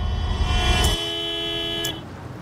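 A car horn sounds in a steady, tonal honk for about two seconds, loud and close, over low street rumble, then cuts off.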